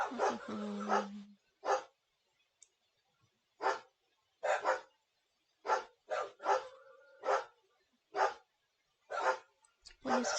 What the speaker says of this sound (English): Please excuse the dogs freaking out.